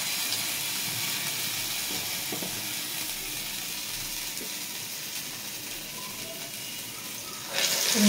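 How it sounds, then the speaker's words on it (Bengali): Medu vada, lentil fritters shaped by wet hand with a hole in the middle, sizzle steadily in hot oil, a continuous close hiss with faint crackles and a brief louder burst near the end. "তেল গরম হয়ে গেছে। এবার আমি একটা একটা করে বড়া ছাড়বো।"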